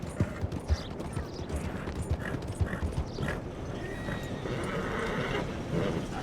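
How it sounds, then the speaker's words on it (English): A horse in a Western-style video game whinnies and snorts while its hooves clop in a steady, uneven rhythm, fairly close and alone with no talk over it. "I'm just having some issues keeping control of my horse right now."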